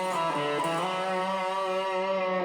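An electric guitar plays a sustained melodic phrase from a song with notes bent upward and held, ringing clean and loud with no talking.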